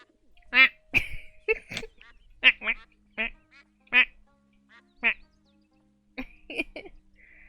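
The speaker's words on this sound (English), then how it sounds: "You can make it quack by using it?" A toy-like duck quacks repeatedly when used in the video game Escape from Monkey Island, with short loud nasal quacks in an irregular series, close and clear, one honk-like note mixed in.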